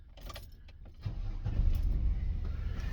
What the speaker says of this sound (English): Engine started right up.